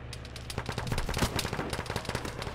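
Sustained automatic gunfire in the military shooter game Arma, a dense rapid rattle of overlapping shots that is fairly loud and continuous throughout, with no talking.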